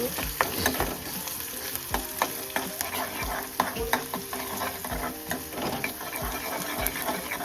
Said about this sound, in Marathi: थोडं कढीपत्ता बरं लालसर बांधून घेऊ.